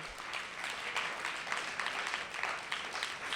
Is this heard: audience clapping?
yes